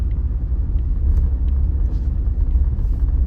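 A car rolls along a country back road on a Saturday afternoon with its windows down, a steady loud low rumble of engine, tires and wind filling the cabin throughout, with no talking.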